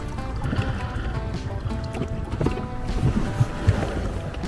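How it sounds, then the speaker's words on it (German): An inflatable dinghy runs under a new electric motor on open water, with a steady low hum and wash throughout, buffeted by wind noise and occasional soft thumps near the microphone. "Und jetzt fahren wir mit dem Schlauchboot und unserem neuen Elektromotor."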